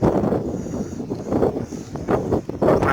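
Strong wind on a mountaintop near Mount Katahdin, Maine, buffets and roars in gusts, rumbling loudly up close with no one speaking.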